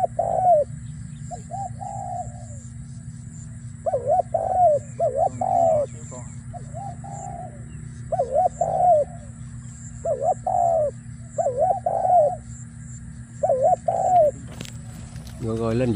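A turtle dove coos in a series of short, repeated phrases with brief pauses between them, close and clear over a steady low background hum.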